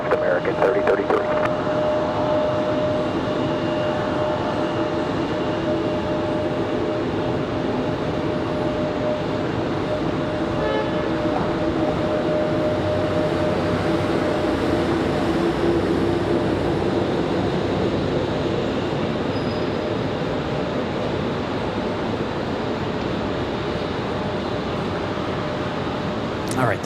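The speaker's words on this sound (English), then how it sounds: "the Dreamliner getting a move on here" A Boeing Dreamliner jet moves at Raleigh-Durham International Airport, giving a steady, sustained engine roar that holds at an even level for the whole stretch.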